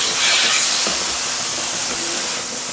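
Chopped tomatoes hitting a hot pan and frying with a loud, broad sizzling hiss that stays steady and close throughout, with faint clinks of a utensil underneath.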